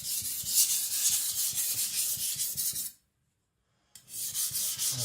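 A Victorinox Chinese cleaver is stroked across a sharpening stone in rapid rhythmic scraping rubs. A brief silent pause interrupts the strokes before the grinding resumes, close and fairly loud, with no speech.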